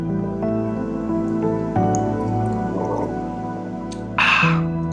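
Someone sips drinking water: a few soft wet slurps and a short gulp, the loudest near the end, over a steady tonal background hum.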